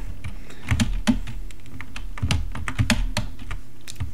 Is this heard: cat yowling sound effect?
no